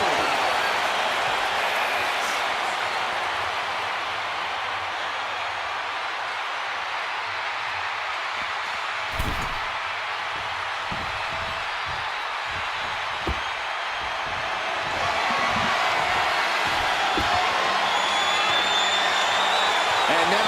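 The crowd in a WWE 2K25 arena roars as a continuous broadband wash, with a few thuds in the middle and the noise swelling louder toward the end.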